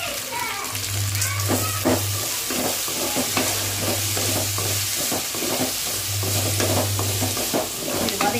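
Sliced kovakkai (ivy gourd) for an Andhra-style poriyal sizzles and is stirred in a pan, with a continuous frying crackle and repeated scraping strokes of the spatula, close up and without talk.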